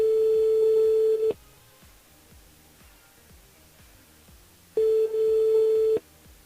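Outgoing phone call ringing on a radio show, two long electronic ring tones, one at the start and one near the end, loud and close with a quiet gap between them.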